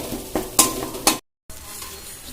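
Chow mein being tossed and mixed with sauces in a pan, a few sharp scraping stirs over a soft sizzle, close by, broken by a brief cut to silence before the sizzle resumes.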